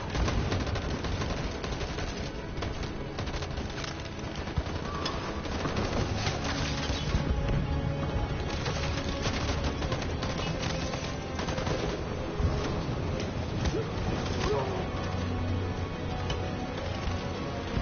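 Long, sustained gunfire in a PS4 war game, rapid machine-gun bursts and scattered shots rolling continuously at fairly even loudness, with a dense battlefield clatter throughout.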